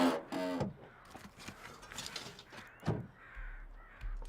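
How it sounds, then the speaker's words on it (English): Crows caw harshly in the snowy wilderness of the survival game The Long Dark, several calls near and far, mixed with faint mechanical clicks and wind. "Oh, those are bear crows."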